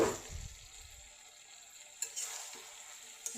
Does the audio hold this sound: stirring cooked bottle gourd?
yes